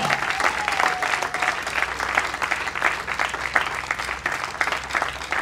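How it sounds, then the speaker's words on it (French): Audience at a political gathering clapping loudly and continuously, a dense, even wash of many hands that stays strong throughout with faint crowd murmur underneath. "nous pouvons applaudir pour elle encore très fort"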